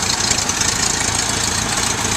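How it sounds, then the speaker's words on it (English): A Buda engine in an antique truck idles at an antique truck and tractor show at Owls Head, producing a loud steady rumble with a fast, even knocking pulse and no talk over it. "It's got a Buddha engine in it."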